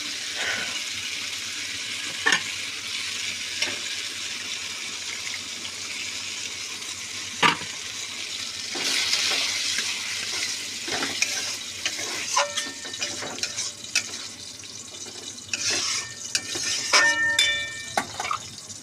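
Mixed vegetables such as capsicum and tomato for a moong dal dish frying in oil in a pan, a soft steady sizzle broken by sharp clacks and scrapes of a spatula stirring, with a few ringing metallic taps.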